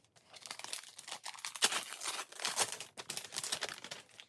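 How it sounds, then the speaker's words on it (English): Plastic or paper wrapping on a book crinkles and tears as it is unwrapped, a close, continuous rustling with sharper crunches throughout and no voices. "that is to unwrap my book for next week"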